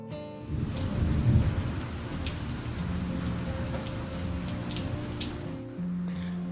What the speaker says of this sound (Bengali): এই বৃষ্টিও দেখুন, আজকে সকাল থেকে দেখছি বৃষ্টি হচ্ছে।